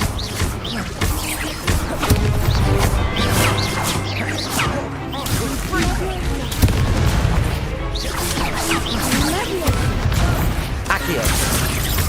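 Fire spell cast again and again during Hogwarts Legacy combat, with booming, crashing impacts and whooshes layered over loud game music and noise, while a player talks throughout.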